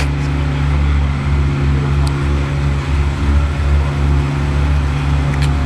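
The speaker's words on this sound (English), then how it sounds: "Okay, so that's the big fan." A big fan roars steadily at a car strapped onto a rolling road, a loud continuous low hum and rush of air with faint tonal whine, running alone without pause.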